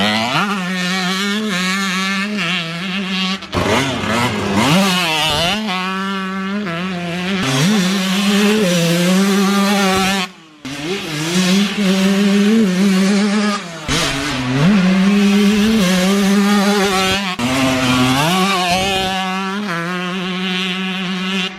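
A Kawasaki KX125 two-stroke dirt bike engine revs hard while riding on a turn track, loud and close, with pitch repeatedly climbing and dropping through throttle blips and gear changes.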